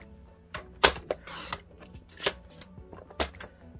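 Paper being cut for a handmade Halloween treat box, heard as several sharp, close snips and crisp rustles spaced irregularly with short gaps between them.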